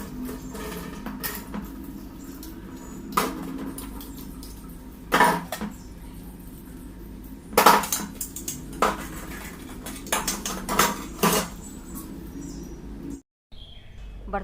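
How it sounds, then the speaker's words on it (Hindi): Dishes, pots and utensils being washed in a home kitchen sink, with scattered clinks and clatters of metal and crockery over a steady background hiss, plus occasional louder bursts of handling. "किचन में अपने बर्तन धुलेंगे, किचन की साफ़ सफाई करेंगे, गैस वैस साफ़ करेंगे,"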